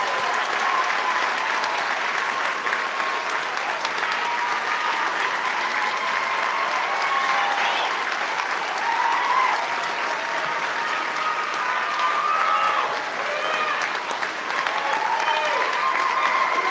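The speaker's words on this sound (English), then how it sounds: "Let's offer congratulations and a round of applause for the class of 2026." A large audience applauds at a Meharry Medical College School of Dentistry white coat ceremony, the clapping dense and sustained throughout, with faint crowd murmur beneath.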